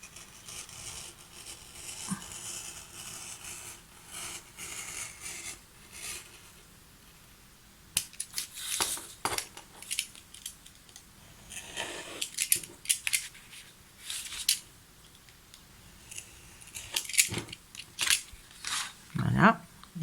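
Scissors snip along drawn lines while cutting out a handmade greeting card, a series of close, crisp irregular clicks and crunches that grow busier in the second half under occasional soft talk.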